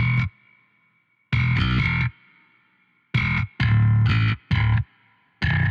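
Thick distorted bass stabs from a layered 808 and bass guitar, a booming low layer and a buzzy midrange, a few short loud hits with sustained ringing between them.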